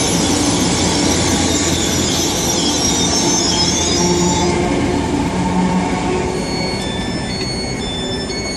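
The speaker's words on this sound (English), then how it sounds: "we'll come back in a few seconds once this London Paddington train departs" A London Paddington express pulls out of Westbury station on the main line, a loud, close, continuous roar of rolling wheels and engine with squealing rail tones that ease off as it departs.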